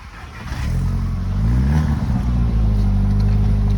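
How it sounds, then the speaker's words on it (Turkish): A parked Audi TT in Malatya has its engine started and revved, a loud, close, rising growl that climbs and then holds at a high steady drone, with no voices. "Çalıştık bir gaz ver abi."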